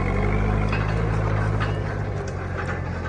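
A mini John Deere tractor's engine runs steadily as it drives and pulls a two-bottom plow, giving a continuous close rumble with a busy mechanical clatter and no speech.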